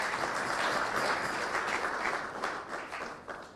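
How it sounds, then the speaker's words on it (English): Audience applause at a memorial lecture fills the space with dense, steady clapping that fades slightly toward the end. The sound is moderately distant and has no talk over it. "I think you clap for him again."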